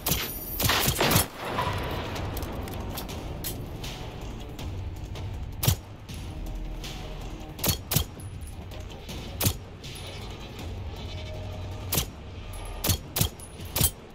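Gunfire in the video game Generation Zero: a rapid cluster of loud shots at the start, then scattered sharp single shots and short bursts spread over a low steady background rumble.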